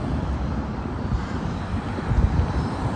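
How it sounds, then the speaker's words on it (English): A large airplane running its engines near the Las Vegas Strip, a broad continuous roar with wind noise, swelling slightly louder toward the end. "airplane here running its engines."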